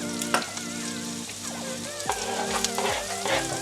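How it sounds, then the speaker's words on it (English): Ginger and garlic sautéing in the same oil used to fry tofu, a lively close crackling sizzle with scattered sharp pops and spatters throughout. "you can go ahead and saute the ginger and the garlic"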